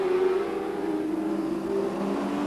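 Honda-powered racing sidecar outfit engine at Lydden Hill, a steady, loud sustained drone with a held whining pitch, fairly close, no talk.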